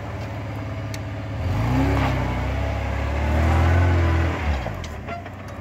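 A UAZ Patriot fitted with an IZh Tekhno differential lock revs its engine while the rear wheels spin. The engine note swells and holds loudly for a few seconds before easing off.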